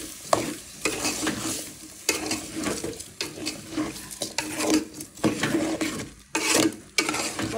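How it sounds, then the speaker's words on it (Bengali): Potatoes fry in a pan for boua bhat, a rice and lentil dish, with a steady sizzle broken by repeated spatula scrapes and knocks against the pan at an uneven pace. "এখন দিয়ে দিব আলু, একসাথে ভেজে নেব।"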